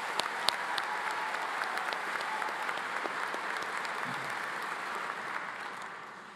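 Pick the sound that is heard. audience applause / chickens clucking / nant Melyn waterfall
audience applause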